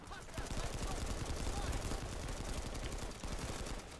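Dense, continuous automatic gunfire from a Planetside 2 firefight, loud and close, with rapid bursts running through nearly the whole span and a voice talking underneath.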